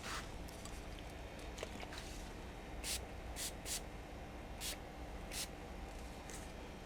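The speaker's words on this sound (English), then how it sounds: "spritz some of this hairspray" Short hissing spritzes of hairspray land on fabric covering a foam RC aircraft fuselage, several quick bursts, close and soft over a steady background hiss.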